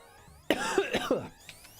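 A sudden fit of harsh coughing, a few rapid hacking bursts close up, then a short pause and a final smaller cough as it settles.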